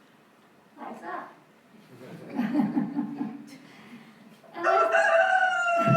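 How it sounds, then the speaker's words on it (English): A rooster crows loudly near the end, a long harmonic call that follows softer chuckling sounds and a brief spoken word. "the rooster's jealous"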